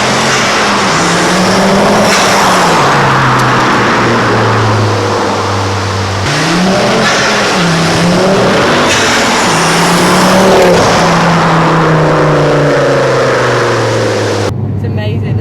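Loud, throaty modified exhaust on a Ford Focus ST droning and revving, pitch rising and falling steadily, with faint talking mixed underneath.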